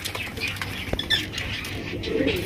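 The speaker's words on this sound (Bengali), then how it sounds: "প্রত্যেকটা কবুতর কিন্তু আজকে ডাকে মাশাআল্লাহ" Pigeons at a busy pigeon market flutter and flap their wings in short bursts, with scattered patter and a sharp knock amid a lively, continuous background, close and moderately loud.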